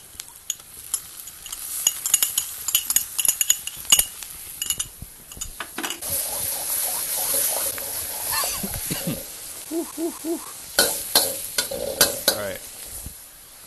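Pickled chilies hitting a hot wok for Sichuan boiled fish, a burst of sizzling frying mixed with close scraping and clinking of a spatula against the pan, stirred in irregular strokes, with a brief spoken remark.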